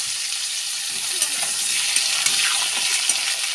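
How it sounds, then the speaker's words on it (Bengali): Potatoes fry in hot oil with black cumin seeds, a close, bright sizzle that crackles and rises as they are stirred in the pan, with no talking. "আলুগুলো একটু লাল লাল করে ভেজে নেব।"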